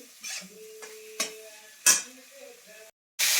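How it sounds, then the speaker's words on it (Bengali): Paneer frying in a pan gives a soft sizzle broken by several sharp spatula scrapes and clinks, followed by a short silence and a louder burst of sizzling. "পনিরটাকে ভালো করে একটু ভেজে নিই।"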